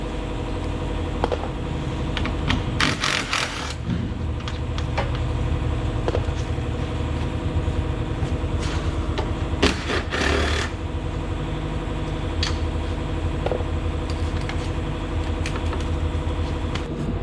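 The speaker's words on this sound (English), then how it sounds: "Hop into our electric drill." An electric drill fitted with a magnetic socket backs screws out of a 2011-2016 Subaru Impreza front bumper in two brief whirring bursts, over a steady, droning engine-like hum that runs throughout.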